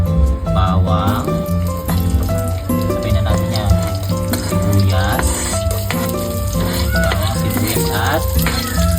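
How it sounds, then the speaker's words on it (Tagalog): Garlic sizzles in hot cooking oil in a pan for ginisang ampalaya, a loud, steady frying hiss with clinks of stirring throughout. "And magigisa na tayo ng mga ingredients."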